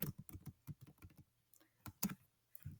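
Quick, light keystrokes tap on a computer keyboard while text is entered into a document, close and quiet, in an uneven burst with a short pause before a few more taps.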